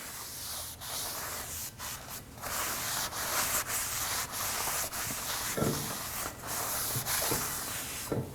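Cleaner being wiped off a rear brake rotor on a 2014-2020 Acura MDX with a rag, producing continuous close rubbing and scrubbing strokes with faint hissy texture and occasional light knocks, without any speech.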